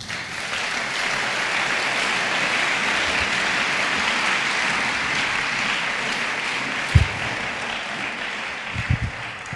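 A church congregation claps in sustained, dense applause that fills the room evenly, with a couple of sharp thumps near the end.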